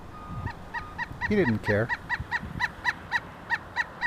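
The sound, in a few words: geese honking in frozen fog by the Bow River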